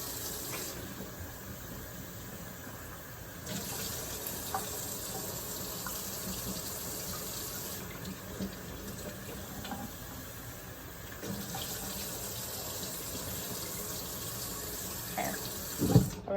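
Running tap water pours steadily over canned jackfruit being rinsed in a kitchen sink, a constant close splash with slight changes as the fruit is moved under the stream, ending in a brief clatter.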